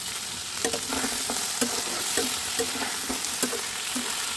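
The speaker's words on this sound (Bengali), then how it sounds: "সামান্য নুন দিয়ে আলুর সঙ্গে পেঁয়াজ ভালো করে ভেজে নেব।" Potatoes, onion and chopped tomato sizzle in a pan with a constant frying hiss, punctuated by regular light clicks and scrapes as a spatula turns them, close and with no talking.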